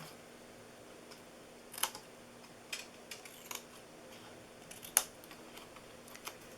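Scissors snip through card being cut into flaps for a handmade gift box, giving a few sparse, quiet crisp snips against a faint steady background hum.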